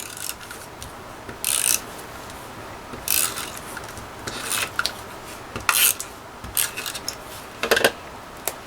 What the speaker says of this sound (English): I'm going to put this down with my tape runner.